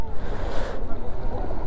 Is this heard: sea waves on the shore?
yes